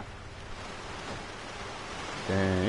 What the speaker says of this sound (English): Dang, it's raining heavy.